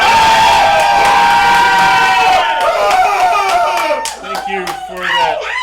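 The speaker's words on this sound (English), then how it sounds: "Thank you for the sarcastic screams." Live podcast audience letting out mock screams, whoops and cheers, a loud dense crowd roar that breaks into scattered yelps and shouts toward the end.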